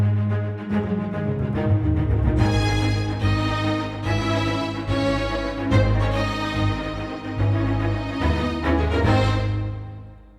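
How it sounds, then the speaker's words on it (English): Full orchestral string section rendered with the Synchron Prime sample library, playing a loud, sustained, swelling passage with mixed short and long phrasing for about ten seconds, fading out at the end with no voices. "Altogether, the strings sound like this."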